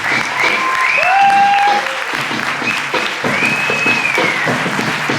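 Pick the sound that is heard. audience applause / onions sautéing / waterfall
audience applause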